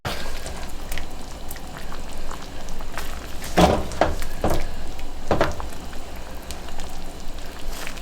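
Shrimp and sausage simmer in a Cajun alfredo cream sauce in a pan, giving a steady bubbling, spattering hiss with a few louder pops and stirring clinks partway through.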